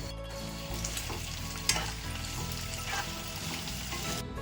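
Green chillies and curry leaves drop into hot oil in a home kitchen and sizzle loudly for a Hyderabadi chilli chicken curry, a dense crackling hiss with a sharp spatter and a few clinks of a stirring spoon.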